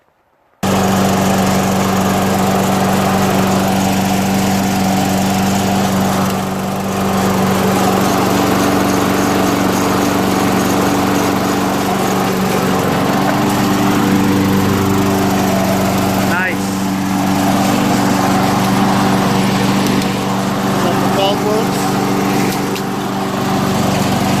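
Craftsman 6.75 21-inch self-propelled lawn mower with a Tecumseh engine, starting after a short silence and then running loud and steady at a constant drone for over twenty seconds, close by.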